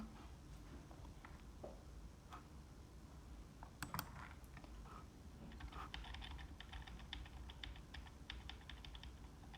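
Computer keyboard typing and mouse clicking during an online lecture, rapid irregular clacks that thicken into quick runs of keystrokes in the second half, faint and close with no talking.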